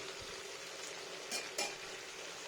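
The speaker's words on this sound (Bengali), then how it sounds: "এবার একটু তেলটা সুন্দরভাবে ধিমে আছে ফুটফুট হয়ে যাক" Oil simmers gently in thick chicken kosa curry on low heat, a faint steady hiss broken by two short bursts of sharper crackle or spoon contact, no voices.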